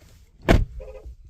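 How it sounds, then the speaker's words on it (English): The door of a GMC Denali truck shuts with a single solid thump up close, followed by a faint mechanical rattle and quiet afterward. "Open the door,"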